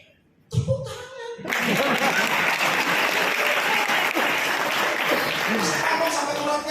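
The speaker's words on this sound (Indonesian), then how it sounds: "Tepuk tangan." After a brief moment of speech, a crowd at a Jakarta event closing session bursts into loud, sustained applause with scattered voices and cheers mixed in, staying strong to the end.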